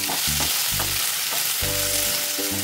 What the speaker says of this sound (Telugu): ఈ ముక్కలకి మాత్రమే తగినంత సాల్ట్ వేసి కలుపుకోవాలి.